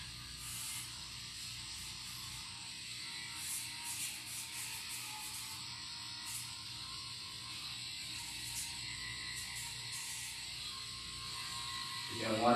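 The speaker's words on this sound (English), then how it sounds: "So I'm going to go ahead and Dremel her nails to make sure that they're not sharp" A Dremel grinds a chihuahua's nails on its low setting with a steady soft whirring hum and intermittent higher rasping as it touches the nails, close and continuous.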